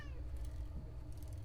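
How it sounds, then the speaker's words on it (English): A domestic cat lets out a brief meow at the very start, then it fades beneath a steady low rumble of background game sound, with no speech. "that was just my cat, sorry."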